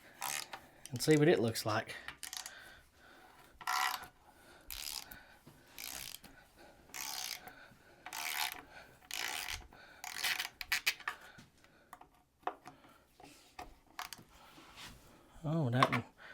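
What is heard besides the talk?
removing valve cover from Ford 300 inline 6 engine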